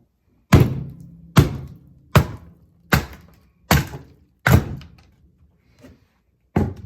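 Kindling split from firewood with a kindling splitter: six sharp, heavy thunks at a steady pace, each with a short woody ring, then two fainter knocks and a last thunk at the end.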